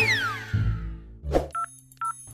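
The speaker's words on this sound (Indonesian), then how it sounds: "aku telepon dulu deh orangnya" Telephone keypad tones beep as a number is dialed, short separate electronic tones near and clear after a faint descending sound, with no talking.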